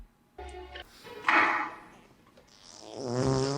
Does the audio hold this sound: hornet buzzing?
no